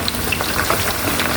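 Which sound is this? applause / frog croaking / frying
frying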